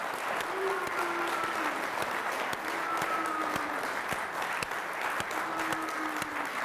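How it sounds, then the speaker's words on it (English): Steady, even applause from an auction crowd after a property sale, sustained clapping of many hands with faint tonal sound underneath. "Big round of applause to him."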